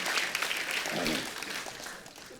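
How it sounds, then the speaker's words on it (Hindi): Steady applause from a TV comedy show studio audience fills the whole stretch, a dense wash of clapping with a faint murmur beneath it. "एक बार जोरदार तालियां हो जाएं।"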